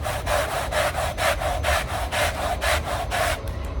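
A handheld spot remover scrubs soapy spots on a rug in quick back-and-forth strokes, about a dozen evenly spaced rasping swishes up close, each a brisk brushing rub.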